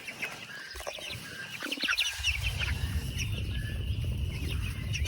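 Three-week-old meat chickens (broilers) cluck and chirp softly in a grassy outdoor pen, a steady low chatter of the flock at close range.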